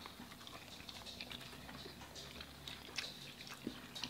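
Chewing and biting on fried catfish, jumbo shrimp and crawfish pie from a catfish restaurant, soft close-up mouth sounds and crunchy clicks repeating steadily, with no talking.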